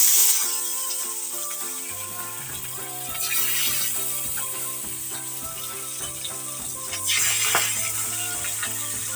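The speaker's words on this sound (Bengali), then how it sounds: "এবার আমি মাছগুলো দিয়ে দেবো তেলের মধ্যে" Tangra fish sizzling as they fry in hot oil, a continuous hiss with bursts of louder spitting, set against a steady musical tone in the background and no speech.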